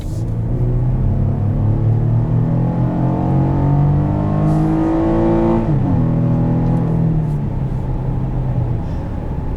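2021 GMC Canyon AT4 with GM's 3.6-liter V6 and variable valve timing accelerating, a steady close engine drone whose pitch climbs through the gear, dips at a shift and climbs again.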